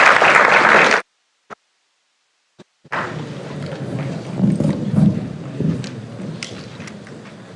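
Audience at a business school centre-for-ethics inauguration breaking into applause, a dense burst of clapping that cuts off abruptly, then a pause with a couple of faint knocks before a looser round of clapping swells back up and carries on.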